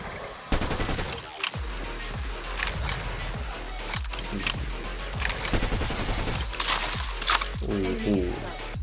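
Rapid gunfire from a JAK-SKRIG6 camo-skinned gun in Call of Duty Mobile, sustained bursts running nearly the whole time beneath excited voices and game sounds.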